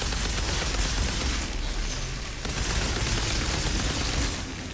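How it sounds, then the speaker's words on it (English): Dense gunfire and explosions from the video game Outriders roar as a continuous, loud rumbling barrage of rapid bursts with no clear pauses. "Oh, got to see the explosions that time."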